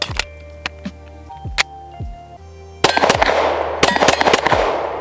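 Canik Rival pistol fired at steel plates at 25 yards on an outdoor range: sharp, loud shots, a few spaced rounds, then a pause before a rapid string of echoing shots.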